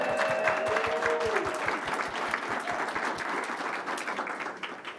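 An audience at an agriculture apprenticeship conference breaks into applause, with loud clapping that thins and fades over several seconds, and a few distinct claps stand out early on.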